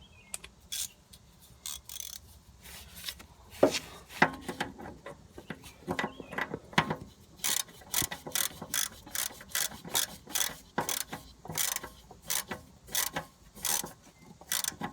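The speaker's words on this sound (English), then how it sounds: "I'm just going to tighten this with the head of the ratchet" Ratchet clicking as it snugs the oil drain plug on a Briggs & Stratton lawn mower, quiet at first then a steady run of close, rhythmic clicks in short bursts.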